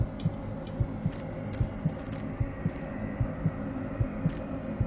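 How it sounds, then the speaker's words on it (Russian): A heartbeat from the video game Doom 3 thumps low and steady, about two beats per second, over a dark droning hum with faint distant game noises and no talking. "Сердце бьется."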